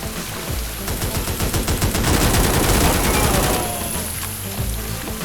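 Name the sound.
shotgun firing in video game A.W.O.L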